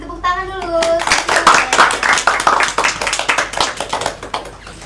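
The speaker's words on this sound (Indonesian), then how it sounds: "Beri tepuk tangan dulu." Students in a classroom clap their hands after a brief spoken call, a loose burst of distinct, close claps with an uneven rhythm that carries on to the end, with children's voices faintly underneath.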